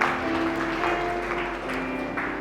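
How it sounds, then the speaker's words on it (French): Applause from a church seminar congregation, a steady dense wash of clapping held evenly throughout at moderate level with no talking. "Acclamons pour la maman"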